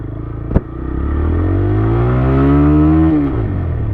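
A TVS Raider 125 motorcycle accelerates hard in first gear, engine pitch climbing steadily over a few seconds before easing back, loud and close after a brief clack at the start.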